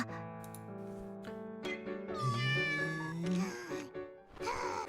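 Cat meows from a video game ring out loud and close, several tonal cries rising and falling over a bed of music, with one long drawn-out meow in the middle.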